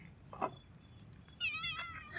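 A cat meows in a short, close wavering cry, following an earlier faint squeak, in a quiet rural Thai outdoor setting.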